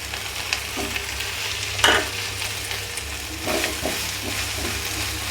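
Green chillies and cabbage sizzle steadily in a pan while being stirred, with a few clear scraping knocks from the spatula over a constant low hiss.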